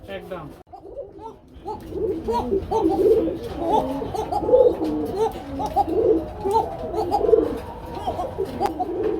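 Domestic pigeons kept in pairs for sale coo repeatedly and close by in a steady rhythmic run, with someone talking over them throughout.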